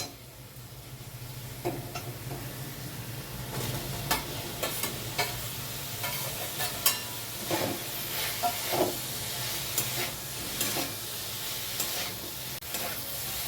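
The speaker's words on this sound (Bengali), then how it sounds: "এঁচোড়টা 2-3 মিনিট কষে নিয়ে" Boiled jackfruit stir-frying with spices in a pan, a steady close sizzle and hiss broken by frequent scraping stirs and light clinks of the spatula throughout.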